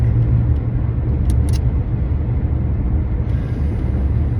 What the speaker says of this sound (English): a gray truck.